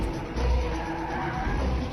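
A car skids in on squealing tyres during a film fight scene, a loud continuous screech and engine roar lasting about two seconds with no voices.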